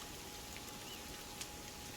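Rain in the survival video game Sons of the Forest, a steady soft hiss of falling drops with faint scattered patters, even and alone.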